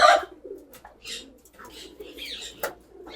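Homing pigeons returning to their loft after a release, with near and distant cooing and soft calls, a brief flutter of wings, and a voice faintly in the background.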